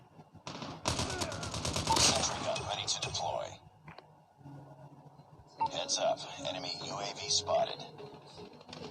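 Rapid bursts of Call of Duty gunfire crackle loudly, with a pause before further firing and game noise return; a voice may murmur faintly underneath.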